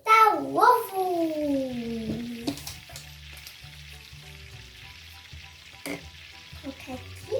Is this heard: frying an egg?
yes